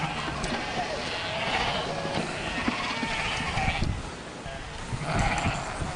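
Sheep bleat repeatedly during shearing in Scotland, several calls rising over a busy background rumble, with people talking at times.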